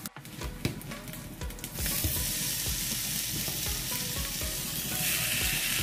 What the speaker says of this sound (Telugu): కొంచెం సేపు నేను కుక్ చేసే ముందు కొద్దిగా ఫ్రై చేస్తానండి